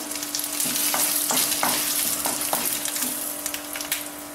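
Urad dal and asafoetida fry in hot oil with a steady crackling sizzle, punctuated by occasional stirring scrapes of a spoon in the pan; no one speaks.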